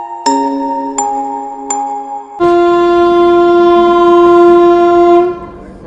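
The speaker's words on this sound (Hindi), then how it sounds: "तो फिलहाल ठीक 2 मिनट रुकने के बाद हमारी ट्रेन डिपार्ट कर रही है कोपर गांव रेलवे स्टेशन से" A superfast express train sounds its horn departing Kopar railway station: three short loud blasts followed by one long sustained blast lasting several seconds, close and dominant.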